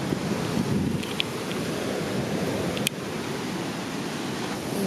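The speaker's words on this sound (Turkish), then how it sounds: "Deniz çok hırçın." Rough surf on the coast of Tayrona Park, Colombia, crashes continuously with steady wind buffeting the microphone, a loud, unbroken wash of sea noise with no voices.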